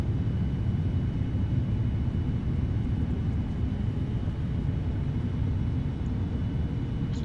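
Steady, loud roar of a Boeing 787-800 with its thrust reversers deployed on a landing rollout in the Prepar3D flight simulator, a broad low rumble holding constant throughout with no speech.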